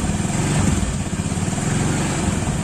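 A motorcycle engine revs steadily and loudly up close while its rear brake, which had failed, is tested after adjustment without replacing the pads, a continuous throbbing drone.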